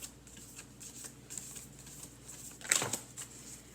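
Tarot cards are shuffled in a few quick riffling bursts, soft and close, with one sharper flutter near the end.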